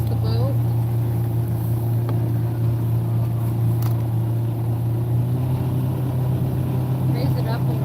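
Outboard motor on a fishing boat idling with a steady low drone and a rough, uneven tone, running continuously up close while people talk faintly over it.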